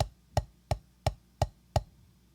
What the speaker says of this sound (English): we're going to do 1 set of singles and 1 set of doubles